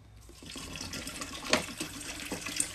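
About 1.5 litres of water runs steadily into a jar holding fresh mint leaves, a close, continuous splashing pour that rises and falls slightly with no talk over it.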